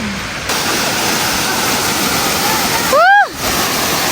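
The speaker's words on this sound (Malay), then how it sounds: "Guys, sana dengan bunyi air." Waterfall roaring steadily beside a jungle trekking trail in Thailand, a loud broadband rush of falling water that fills the whole clip, with a brief voiced exclamation rising over it near the end.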